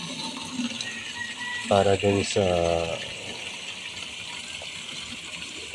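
Water runs steadily into a container at a crayfish-growing area, a constant rushing flow heard close by, with someone speaking briefly over it.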